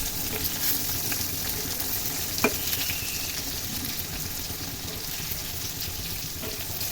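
Slices of pointed gourd (potol) fry in a generous amount of oil, giving a steady, dense crackling sizzle throughout. One sharp tap or clink stands out partway through, and the frying stays even and close with no talking.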